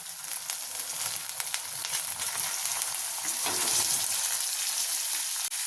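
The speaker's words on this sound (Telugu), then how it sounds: "నూనెలో మంచిగా ఫ్రై అవ్వాలండి, అప్పుడు చాలా బాగుంటుంది అన్నమాట." Chicken liver with ginger garlic paste sizzling in hot oil in a pan over a medium flame, a steady crackling fry with occasional stirring scrapes throughout, close and alone.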